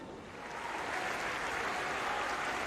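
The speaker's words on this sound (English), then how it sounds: "It's sympathetic applause from both sets of players and the crowd here at the Academy Stadium." Players and the crowd at a women's football match at the Academy Stadium, Manchester City, give sympathetic applause. The soft, distant clapping swells into an even, continuous wash.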